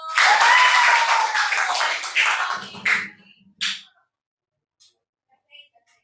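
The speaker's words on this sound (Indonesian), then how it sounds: "Yang pertama kali ini tepuk tangan dulu" A classroom of students clapping hands during an Indonesian lesson, a short burst of lively applause with a whoop on top that stops abruptly, leaving a few faint knocks and near silence.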